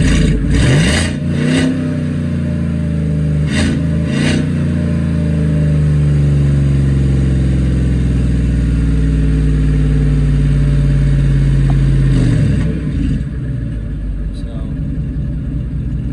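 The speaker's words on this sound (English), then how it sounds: "I'm gonna rev it up just a little bit so you can kind of tell the difference" A Gen V LT1 V8 swapped into a vehicle runs loud and close, rising in a sustained rev with a steady low rumble before settling back toward idle, with brief voices near the start.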